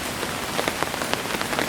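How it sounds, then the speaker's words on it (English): Steady rain drums on a camp in the woods during a long wild storm, a dense close patter with sharper drops spattering throughout and no voices. "Wind and rain and all blowing around and stuff."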